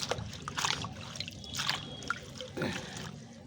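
Cold water running from an outdoor tap in winter, a steady trickling splash with irregular surges, close by and moderately loud, with no voices.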